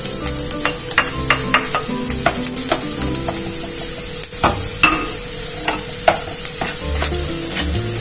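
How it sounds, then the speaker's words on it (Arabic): Garlic frying with onion in oil in a pan, a loud continuous sizzle punctuated by repeated scraping stirs, close up with no talk. "فعم نضيف الثوم فوقها."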